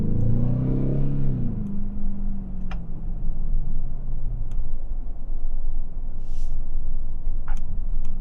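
A 2024 Ford F-150 Raptor R downshifting in sport mode gives a close engine rev that rises and then falls away into a steady low rumble. A few faint ticks sound over it.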